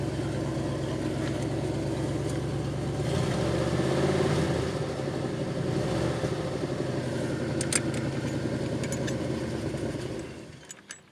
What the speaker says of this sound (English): Turn the car off and it just keeps idling.